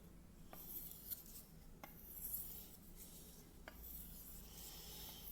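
A Racer M knife drawn across a Japanese whetstone, a faint steady rasping scrape with a few sharper contacts, close and alone without speech.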